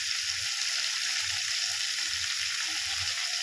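Ginger hits hot oil for a cauliflower curry, giving a continuous close hissing sizzle with soft low bumps of stirring underneath, steady and even with no talking.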